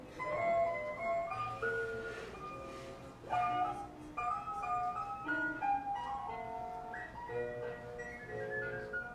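A Les Paul electric guitar recording plays back steadily in a room, bright layered guitar tones with shifting notes at moderate level and no talking.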